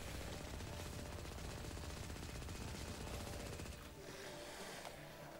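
Automatic weapon fire in the video game Firefall, a dense continuous rattle of rapid shots that runs loud and unbroken for several seconds before easing slightly.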